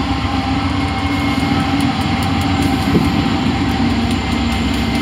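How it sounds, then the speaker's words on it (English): A loud, steady rumble of a train rolling past nearby, continuous throughout with a low mechanical drone and faint high clatter, no talking. "trains are kind of loud"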